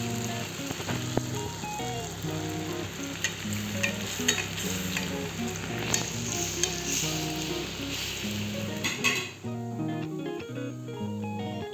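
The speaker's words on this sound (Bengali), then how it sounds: "একে একে সবগুলোকে ভেজে নেব" Bread pakoras deep-fry in hot oil, a steady crackling sizzle with bubbling pops that continues throughout, with a brief clatter and a shift to a lighter sizzle near the end.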